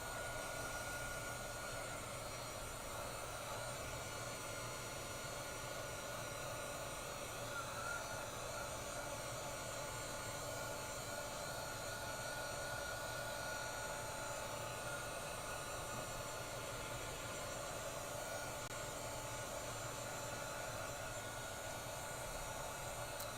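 Steady, continuous whoosh of a handheld heat tool blowing hot air to dry and heat set water reactive paper, loud and unbroken throughout with no talking.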